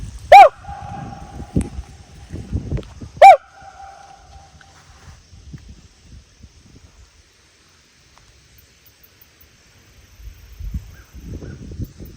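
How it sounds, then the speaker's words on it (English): Two loud honking calls from Canada geese flying overhead early on, then mostly quiet with faint low rustling; the honks sound fairly close and brief. "there's Canadian geese fly over this"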